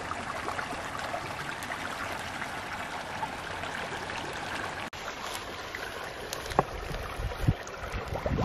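Cold spring water of Ophir Creek near Tahoe Meadows runs and trickles outdoors in a continuous close babble, with a few brief sharper splashes or knocks toward the end.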